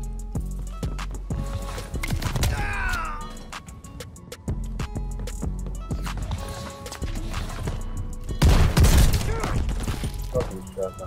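Heavy shotgun blasts from a double barrel shotgun in the shooter Call of Duty: Vanguard, scattered loud bangs amid chaotic multiplayer game noise, with a big burst near the end.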